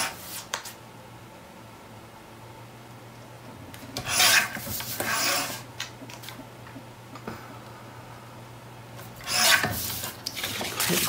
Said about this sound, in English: And it needs to be trimmed down.